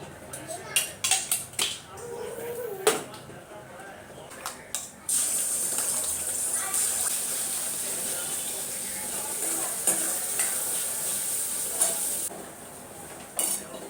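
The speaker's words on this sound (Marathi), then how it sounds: "भाजी फोडणी देते पटकन" Tempering (phodni) for a vegetable curry sizzling sharply in a hot pan, with a loud burst of frying that holds steady for several seconds after some clatter and utensil clinks at the start, while a voice speaks early on.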